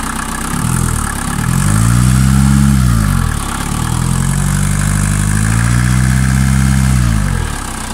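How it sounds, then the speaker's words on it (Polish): The diesel engine of an orchard work platform on a Ladog municipal vehicle chassis runs loudly and steadily nearby, its pitch rising and falling twice as it revs up and eases back. "Silnik pracuje."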